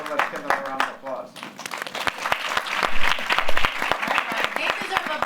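Audience round of applause at a panel event on theater and live entertainment careers, opening under a speaking voice and then swelling into loud, dense clapping with sharp individual claps.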